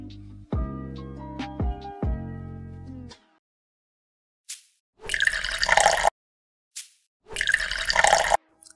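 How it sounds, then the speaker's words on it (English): Water poured into a container while shooting a coffee product commercial, heard as two short splashing bursts with a pause between, following a few seconds of tonal music. "Then I completed this shot by adding water in the container"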